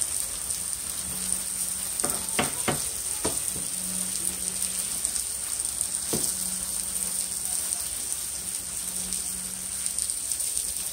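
Steak-umm sliced steaks sizzle steadily in a hot pan, a dense continuous crackle with a high hiss, broken by a few sharp clanks of a utensil against the pan; no talk.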